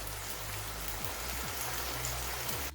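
Gobi gosht, cauliflower and meat, frying in hot oil in a pan with a steady, dense sizzle that holds even and close throughout, with no voices.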